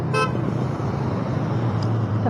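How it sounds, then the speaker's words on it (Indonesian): A car horn honks twice in quick succession near the start, loud over the steady rumble of dense Bandung street traffic, followed by a fainter distant toot. "Plat B langsung klakson."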